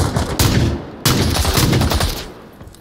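A shotgun fires in a video game, two loud close blasts about half a second apart, each followed by a ringing rumble that fades away.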